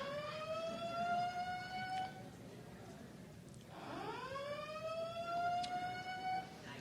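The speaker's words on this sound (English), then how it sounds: "This is the first time that the siren went off" A siren wails through two sweeping cycles, holding a steady tone, dropping away briefly, then rising again, moderately loud over a murmuring room.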